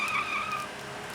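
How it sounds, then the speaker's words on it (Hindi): A car arriving and skidding to a stop in an action movie scene, with a bright tire squeal that fades over about a second against a low engine rumble. "अरे गाड़ी आ रही है।"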